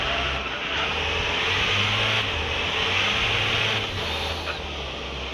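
A car engine in the driving game Madout accelerates, a loud, sustained mid-pitched drone that holds near and steady, rising slightly as the car gains speed; no one speaks.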